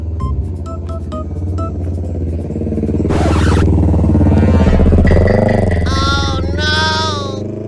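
A motorcycle revs and rumbles up close, its throbbing engine swelling in loudness as it passes, with a rising whine and squealing tones layered over the rough low drone.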